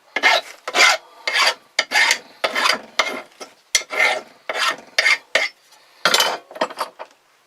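Rhythmic, rasping file strokes rounding off the edges of a metal snare swivel, loud and close, about a dozen short bursts with brief pauses between them and no talking.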